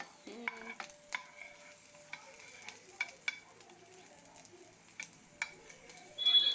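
An egg patty fries in a pan at a quiet level, with a soft sizzle broken by sharp utensil clicks and taps, plus a brief louder scrape near the end.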